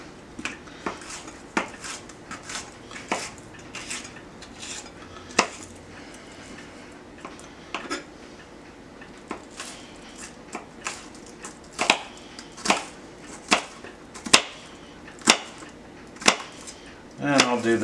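A knife slicing onions flat on a cutting board for French onion soup, sharp clicking chops spaced irregularly and growing more frequent and louder toward the end, close and clear over quiet room tone.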